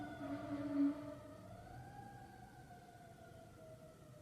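A faint, distant emergency siren wails in steady tones that slide slowly up and down, persisting low behind a quiet background hiss, with no talking.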